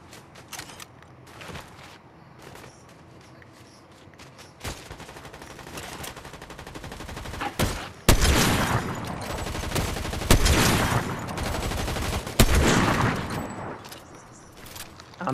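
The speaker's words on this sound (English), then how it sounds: "I'm missing like every shot with my sniper" Gunfire in the Fortnite video game, including sniper rifle shots, with sharp loud reports and rapid bursts that grow denser and more intense partway through, over a steady mechanical game soundscape.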